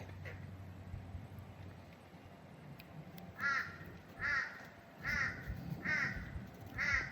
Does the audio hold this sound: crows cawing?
yes